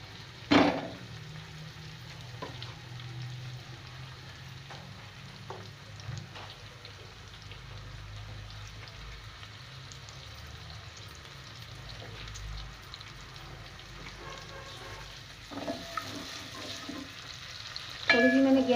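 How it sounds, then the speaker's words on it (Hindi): Onions frying in hot cooking oil in a pan for an aloo baingan dish, a steady low sizzle running throughout with occasional stirring clicks and a louder burst near the end. "अब मैं इसमें प्याज डाल दूँगी।"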